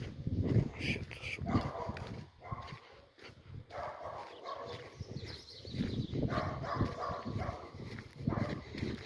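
Dogs bark and yip intermittently outdoors in Wieruszów, Poland, mixed in with people talking throughout.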